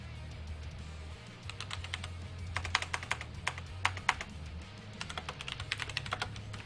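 Fast, irregular keystrokes clatter on a computer keyboard, a close run of crisp taps with brief pauses, over a low steady hum and no talking.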